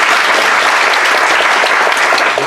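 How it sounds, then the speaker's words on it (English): Loud, close theatre applause from the audience at a live stage radio play of It's a Wonderful Life, with a dense, unbroken roar of clapping hands throughout. "Feel free to applaud"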